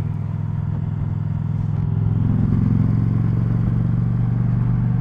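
Indian Challenger motorcycle being ridden, its engine a steady loud low drone with wind and road rumble throughout, rising slightly in intensity midway.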